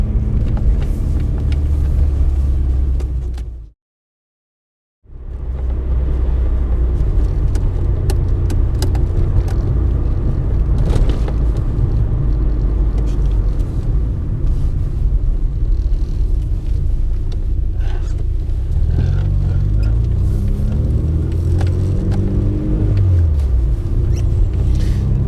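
A Mk2 VW Golf GTI driving on the road, heard from inside: loud, steady engine drone and tyre rumble throughout, a brief gap of silence early on, then the engine note rising and falling with gear changes.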